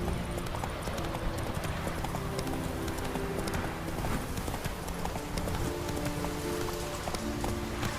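Roach, Geralt's horse in The Witcher 3, gallops with a steady, rapid clip-clop of hooves, close and continuous throughout, over a faint sustained tonal background.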